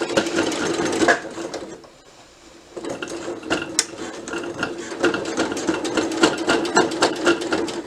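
A sewing machine stitches over fabric pleats in a loud, steady mechanical chatter that stops briefly for about a second, then resumes at full, even speed, with no voices.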